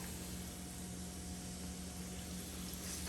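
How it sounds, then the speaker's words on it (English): Chicken legs deep frying in hot oil give off a steady, dense sizzle and bubbling hiss, faint but constant, with no voices. "Ooh, that's the kind of frying I like to see."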